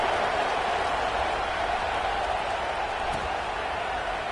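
Stadium crowd at a Wyoming vs Penn State college football game, a steady, dense roar of many voices spread broadly and evenly, continuous and fairly loud throughout with no clear peaks.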